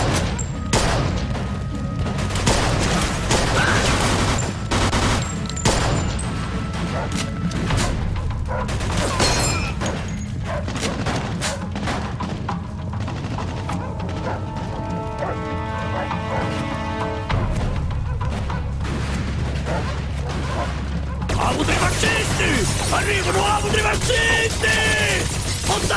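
Gunfire and machine-gun bursts in a Mafia II street shootout near a church, dense crashes and rattling shots filling the scene continuously, with some background game sound and chaotic impacts throughout.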